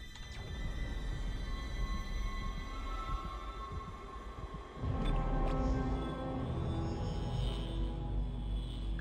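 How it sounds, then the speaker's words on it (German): A train ride in the video game Dead Space, with a low rumbling rail-car drone and mechanical hum that shifts and grows heavier midway, accompanied by faint tonal whines. "So, Zug fahren!"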